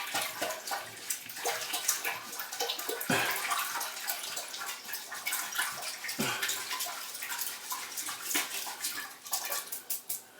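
Liquid antifreeze poured into a toilet bowl while winterizing, a steady watery splashing and gurgling that runs throughout, fairly close, with a couple of heavier sloshes partway through.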